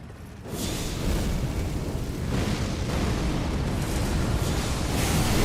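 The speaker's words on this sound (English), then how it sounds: "We'll know if they start spamming the fucking gravitational missile." Repeated gravitational missile spell impacts in Elden Ring rumble as a dense, continuous barrage of booming blasts, starting abruptly after a brief quiet moment and staying loud throughout.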